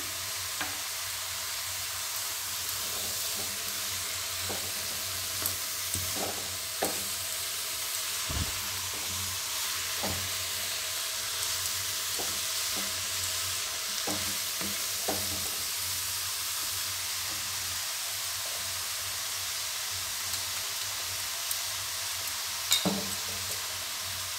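Salgam (turnip) curry being sautéed and stirred in a pan for a Bengali vegetarian dish, a steady close frying sizzle and hiss with occasional spoon scrapes and clicks, no talking.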